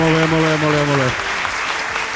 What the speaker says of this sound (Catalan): Aplaudiment molt fort